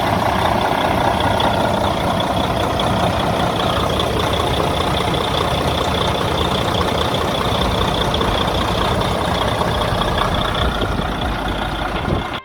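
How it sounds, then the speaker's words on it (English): An old school truck engine runs steadily at a loud, close idle, a continuous low rumble that holds throughout with no talking. "We also checked out the engine, made sure it was running okay"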